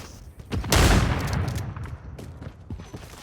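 Rapid gunfire from a first-person shooter in the Call of Duty or Battlefield series, a dense burst of shots up close and loud, trailing into scattered sharper reports.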